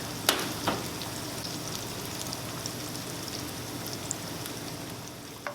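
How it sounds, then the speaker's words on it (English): Shallots and garlic sizzle steadily in hot oil with a dense, crackling hiss, and a couple of light clinks stand out near the start. "Have a really nice sizzle there."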